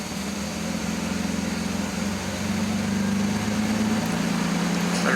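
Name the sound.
old car engine idling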